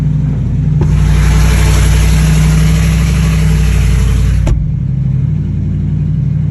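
A powerful Ferrari V12 engine rumbles loudly at idle on a cold start, then roars with a sustained high rev for several seconds before dropping back to a deep idle.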